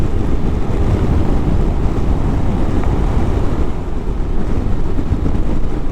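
Steady, loud wind roar buffets the microphone on a 2025 Honda NC750 DCT motorcycle cruising at 70 mph, a dense continuous rush with the engine buried underneath and no breaks.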